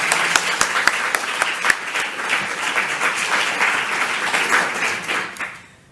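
An audience at a philosophy lecture applauds steadily for several seconds, many hands clapping close together before the sound tapers off.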